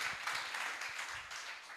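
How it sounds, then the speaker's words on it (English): An audience at an export summit applauds, a soft, dense patter of many hands held steady at a fair distance, with no break for the whole stretch. "A round of applause."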